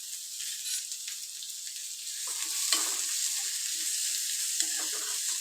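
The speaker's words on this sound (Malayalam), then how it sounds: "ഇത് നല്ലപോലെ മൂപ്പിച്ചെടുക്കണം." Chopped garlic, ginger, slit green chili and onion fry in hot oil for an egg curry, a steady close sizzle with soft stirring scrapes throughout and no voices.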